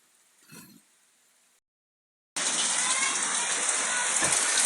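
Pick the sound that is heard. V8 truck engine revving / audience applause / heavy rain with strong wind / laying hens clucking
heavy rain with strong wind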